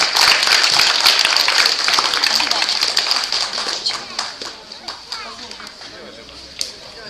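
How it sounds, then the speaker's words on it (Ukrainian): Applause from the crowd at a horting martial arts tournament in Lazurne: dense clapping that thins into scattered individual claps, with children and other voices audible in the background. "Вітаємо оплесками."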